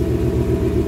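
Close, loud, steady low rumble of a Gen 3 Mustang Coyote V8 idling with an intake cam idle stumble, a slight pulsing unevenness running through the brief idle.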